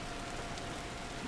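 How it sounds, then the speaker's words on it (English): Rain in The Last of Us falls as a faint, steady hiss with soft scattered drops, continuous and with no voices. "This rain ain't gonna do us any good."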